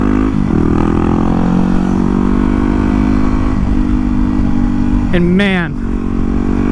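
A Yamaha WR250R dual sport motorcycle on knobby tires hums steadily while riding around town, then revs up sharply and settles back, with someone talking over the engine noise.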